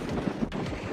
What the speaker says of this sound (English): it's pretty windy on this side of the island, on the beach.